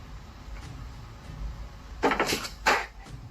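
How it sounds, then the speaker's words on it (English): Two sharp knocking bursts sound from the other side of a door, with a faint bump beforehand and low background hum between. "there's a knock from the other side"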